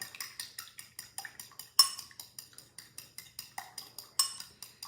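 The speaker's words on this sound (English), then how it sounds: "I want to scramble up my egg, break it up," A fork whisks an egg in a bowl, giving a brisk, steady series of close metallic clinks and taps, about four to five per second, with a few sharper knocks and no talking.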